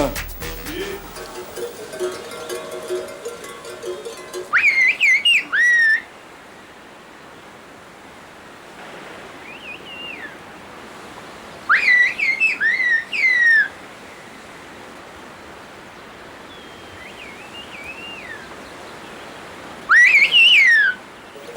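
Whistled language of the whistlers of Kuşköy in Turkey: three bursts of sharp, gliding, high-pitched whistles rising and falling like speech, separated by quiet stretches of faint background hiss.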